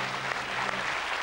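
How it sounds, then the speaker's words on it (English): Studio audience applause on a comedy talk show, a dense steady burst of many hands clapping, close and fairly loud, without talk over it. "We'll give him a round of applause."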